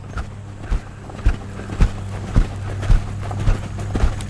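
Hoofbeats of a relatively green horse stepping into a canter, a steady rhythm of about eight evenly spaced thuds, close and fairly loud, with no one talking.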